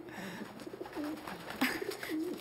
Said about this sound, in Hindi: यहाँ इतने कबूतर क्यों हैं?